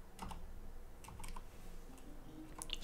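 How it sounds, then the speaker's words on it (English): Light, quiet typing on a mechanical computer keyboard with non-clicky switches, a few soft key taps in small clusters close by with no speech. "On my silky smooth new mechanical keyboard that doesn't click."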